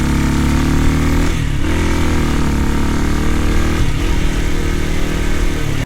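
New motorbike engine running loud and close in India, a steady throaty drone with slight rises in revs as it pulls away, continuous with no talk.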